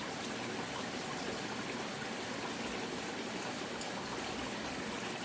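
Creek water flows in a steady, even rush with a soft trickling texture, continuous and unbroken throughout, with no voices.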